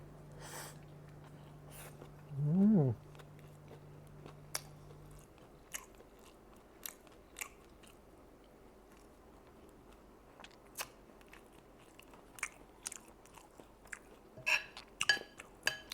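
Quiet, close chewing and crunching of pork skin larb comes in scattered bites, with soft clicks and mouth sounds, and a brief hum and squeak in the first few seconds.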